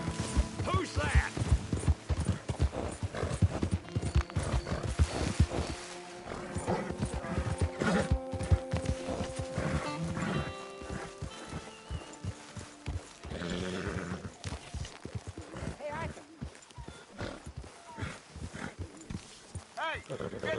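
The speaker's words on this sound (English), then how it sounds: "get that horse out of here" Horse hooves clatter and a horse whinnies amid Red Dead Redemption 2 game sounds, with people talking over the noise throughout.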